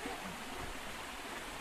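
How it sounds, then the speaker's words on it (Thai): Waterfall beside a steep, rocky hillside path, heard as a steady, continuous broadband rush of falling water that stays even throughout, with no voices over it. "อันนี้ก็เป็นอีกน้ำตกหนึ่ง"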